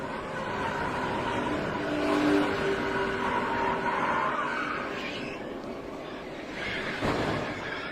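NASCAR stock cars race and crash at the 2009 Aaron's 499, engines roaring in a sustained blur of noise with a tire-skid and impact burst near the end, loud and continuous.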